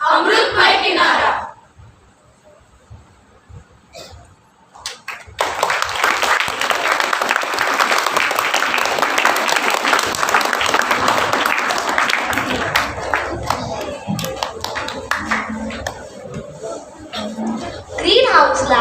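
Loud sustained applause from a school audience after a Marathi choral recitation by students of standards V to VII, with scattered chatter and children's voices. Clapping begins around five seconds in and continues steadily to the end.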